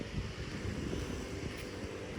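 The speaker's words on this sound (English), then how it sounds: "I hate blowers." Steady whooshing drone of a leaf blower running across the street from an autumn garden, a continuous rushing noise at a moderate level with no breaks and no speech.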